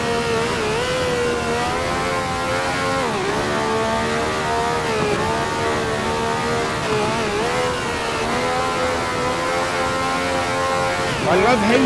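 A 1966 Eagle T1G race car at Spa in Grand Prix Legends roars loudly throughout, its engine pitch climbing and falling repeatedly as the throttle is worked on and off between gear changes.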